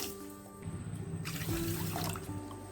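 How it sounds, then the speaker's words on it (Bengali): Two bowls of water poured onto sugar in a pot for syrup, starting with a soft trickle and swelling into a fuller, splashing pour near the mic. "দিয়ে দিচ্ছি দুই বাটি চিনি তার সঙ্গে দিয়ে দিচ্ছি দুই বাটি জল"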